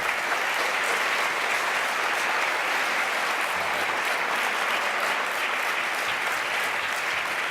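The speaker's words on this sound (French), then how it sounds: "You can applaud." At an awards ceremony, a large audience applauds in a sustained, loud and even wash of clapping that holds steady from start to finish.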